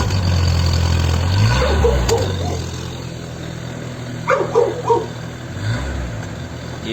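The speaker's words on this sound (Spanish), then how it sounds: "Realizamos la medida del escape, pero ahora acelerando un poco" A car engine idles loudly and revs up twice at the exhaust during a particle emissions measurement, its pitch rising and falling, while a dog barks a few times midway.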